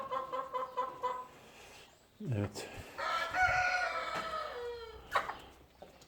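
Farm chickens cluck in short bursts, then a rooster lets out a long, clear crow nearby, followed by more clucking; someone speaks briefly.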